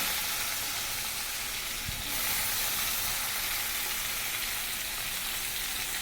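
Two onions fry with cumin seeds in hot oil, a dense, steady sizzle and crackle close up, with a faint knock of stirring briefly near the start.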